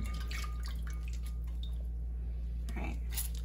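Homemade butter being rinsed and kneaded in water, giving soft wet squishing and dripping sounds close up over a steady low hum, with a louder splashy squelch near the end.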